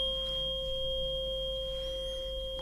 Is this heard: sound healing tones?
yes